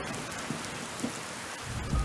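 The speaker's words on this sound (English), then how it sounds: "First with a drizzle, then came the showers" Rain showers fall steadily following an earlier drizzle, a dense, even hiss of drops on surfaces with low rumbling underneath and no voices.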